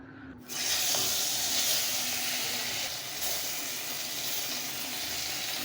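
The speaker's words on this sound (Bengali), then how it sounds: "তো আমি শিং মাছগুলো একটু হালকা ভাজা নিব।" Shing catfish drop into hot oil for a light fry, a sudden loud hiss that then settles into a steady, even sizzle close by.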